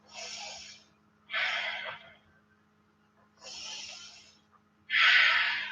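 Slow, steady breathing during a yoga pose, four long airy breaths spaced a second or so apart, close and clear over a faint steady hum.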